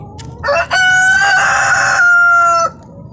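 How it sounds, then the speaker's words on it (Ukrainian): A rooster crows loudly and close in one long, sustained call among a yard of chickens and ducks, preceded by a short clucking burst. "Бачите, як качки реагують на курей."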